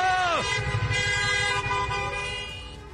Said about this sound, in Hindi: लोग कार का हॉर्न बजाकर नाराजगी जता रहे हैं।